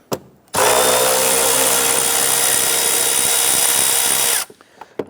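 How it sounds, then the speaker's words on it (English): A power tool with a 10mm socket loosens an air intake hose clamp under the hood of a 1992-1996 Toyota Camry 2.2L I4, a loud steady whirring buzz lasting about four seconds, close up and alone. "Using a 10mm socket, let's go ahead and loosen this clamp."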